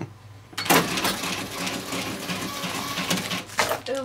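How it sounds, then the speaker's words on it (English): An inn's malfunctioning cash register clatters and whirs through a few bursts of mechanical printing and clicking, fairly close and loud, with no voices. "our cash register out of whack pretty much"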